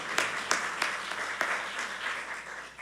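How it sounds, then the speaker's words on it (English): Congregation clapping during a Sunday church service for the Blessing of the Animals, fairly quiet and somewhat distant, with a few distinct sharp claps standing out over a soft, sustained patter. "yes, clap for that"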